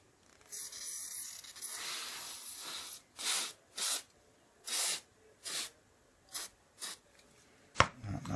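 Glue sprayed from an aerosol can onto a 15mm scale model farmstead piece, a longer hiss followed by a series of short, close bursts with pauses between them, no talk.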